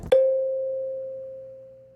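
A single plucked kalimba note, dry and without effects, rings out clearly, struck once and left to decay slowly and cleanly into silence.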